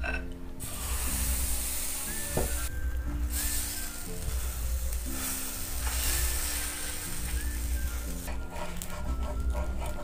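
Batter for jal ruti sizzles in a hot, oiled non-stick pan, a steady close hiss that runs throughout with faint background hum and occasional light clicks.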